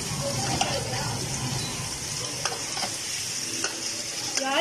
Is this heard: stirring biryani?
yes